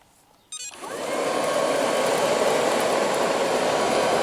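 An Ilife V3s robotic floor sweeper switches on after a brief quiet moment, then settles into a steady, close whirring hum as it vacuums up pellets.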